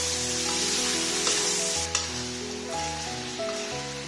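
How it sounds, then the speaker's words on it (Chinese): Pork stir-frying in a wok as seasoning is poured in and stirred, a steady sizzle with occasional scraping clatters, under soft background music. "现在把火调小，把我们准备好的调料给倒进去，慢慢给它翻拌均匀，翻拌上色"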